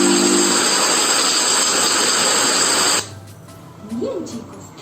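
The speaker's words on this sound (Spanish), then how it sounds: "Entonces, ese es el sonido de la" Shower water running steadily as a broad, loud hiss that cuts off abruptly after about three seconds, followed by a quieter stretch where someone speaks.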